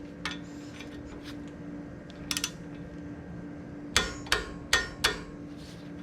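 Sharp metallic clicks and taps from a wrench torquing the ball joint nut on a 2009 Nissan Versa lower control arm, a few single clicks followed by four crisp strikes close by over a steady background hum.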